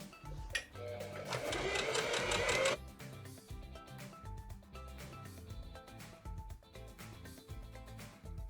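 Sewing machine stitching a ruffle loop, a burst of fast close mechanical stitching for a couple of seconds, then lighter clicking and handling noises.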